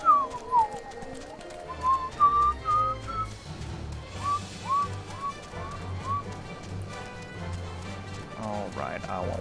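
A person whistles a short melodic tune of rising and falling notes while a game plays underneath, with a voice talking over parts of it.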